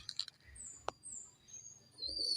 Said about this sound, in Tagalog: pupunta na po tayo dito sa ating mga alagang kalapati